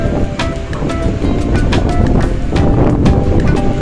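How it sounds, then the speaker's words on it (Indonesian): Big waves and strong wind at Merak harbour on the Sunda Strait, a loud continuous roar of surf and wind buffeting the microphone with no pause. "Cuaca di Selat Sunda hari ini terpantau ombak cukup besar"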